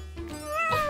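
A single cartoon kitten's meow, short and rising, clear and close in a children's animated show about a cat dressing up in a costume.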